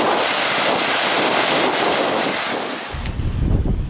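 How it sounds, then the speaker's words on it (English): Water pours over the overflowing dam at Thruscross reservoir, a loud, dense, steady roar mixed with wind buffeting on the microphone, shifting near the end to heavier low gusting. "Looking at some reservoirs that are overflowing."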